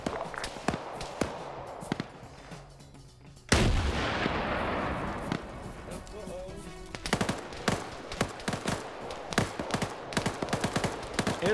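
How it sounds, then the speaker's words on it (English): Rapid gunfire rattles through a military video game firefight on a Ukraine training operation, with scattered shots, a sudden loud blast near the middle, then dense sharp volleys continuing to the end. "Fucking shooting us!"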